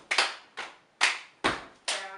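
Hand claps in a step dance routine, five sharp, evenly spaced claps close up, each with a short ringing decay, no talk.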